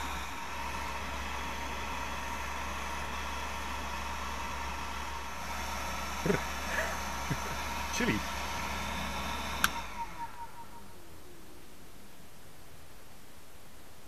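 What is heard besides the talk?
improvised 12 volt computer cooling fan running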